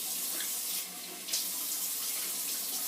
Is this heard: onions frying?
no